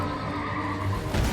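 A horse neighs in the Elden Ring video game, a strained whinny heard over dense, rumbling game noise during a mounted enemy fight.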